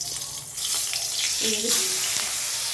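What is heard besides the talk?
fish placed into hot pan, sizzling hiss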